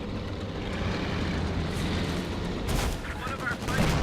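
Gunfire and artillery roar through a Company of Heroes 2 multiplayer battle as a dense, continuous barrage, with a louder burst of shots near the end.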